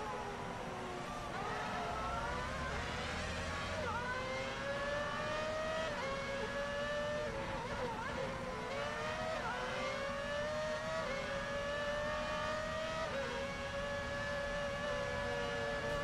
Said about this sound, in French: Je vais laisser passer la Toro Rosso